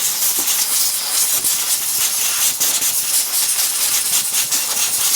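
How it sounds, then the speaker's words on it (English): Air gun blasting dirt off an Atco Balmoral cylinder mower, a loud continuous close-up hiss of compressed air with slight flutters as the jet moves over the machine. "now it's time to get my air gun, blow off all that dirt"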